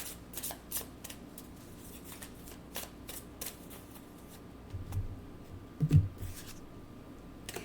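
Oracle cards are shuffled for a card reading, producing soft repeated riffling and flicking taps at close range, fairly quiet, with a couple of slightly louder handling bumps toward the end.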